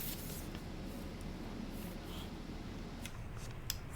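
Scissors cut through cardstock for a handmade Christmas card, quiet close snips and crisp paper sounds over a low room hiss, a few sharper clicks near the end.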